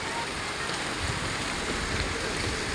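Heavy rain pours down in Cuddalore, making a dense, even hiss that stays loud and steady throughout.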